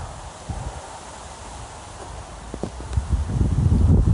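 Wind blows outdoors around a horse herd, a rough gusty rumble that swells toward the end, with occasional soft hoof-like thuds and rustling nearby.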